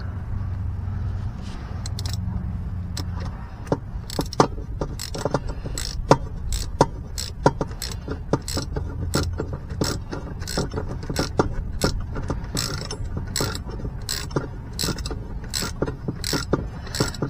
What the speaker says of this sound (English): 1/2" wrench and socket.